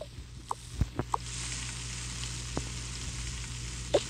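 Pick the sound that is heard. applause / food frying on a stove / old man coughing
food frying on a stove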